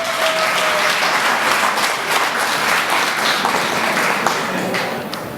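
A large audience applauds steadily for Attorney Sonny Bryan at a Nigeria Independence Day celebration, a dense, continuous wash of clapping that holds at a constant level throughout and eases slightly at the end.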